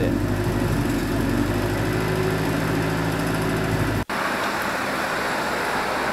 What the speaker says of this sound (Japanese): 今今回もあっさり始動ですね。